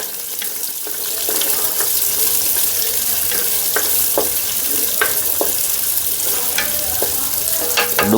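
Cut onions sizzle and crackle loudly in a hot pan, close up, while a spoon stirs them with repeated scraping taps against the pan; no one speaks.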